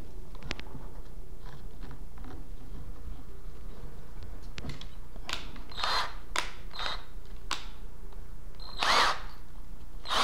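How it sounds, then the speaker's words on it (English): A power drill whines in short, sharp bursts, several quick revving pulses drilling holes for a hot wire styrofoam cutter against a steady background hum. "I will use this drill bit there."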